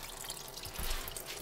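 Coolant drains from a Subaru WRX engine after the hose is pulled off the water pump during engine removal, a steady faint trickle of liquid with soft splashing, close by and alone.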